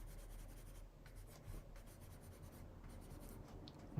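Coloring on paper with a stamping-and-coloring tool makes a soft, continuous scratchy rubbing, with quick repeated strokes close up at low volume.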